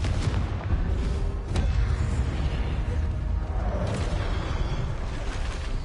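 Repeated booming blasts of the Confringo explosion spell in Hogwarts Legacy, with sharp cracks rising out of a dense, continuous rumble of combat.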